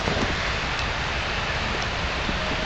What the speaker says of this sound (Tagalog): kung makikita nyo, kumalakas na yung ulan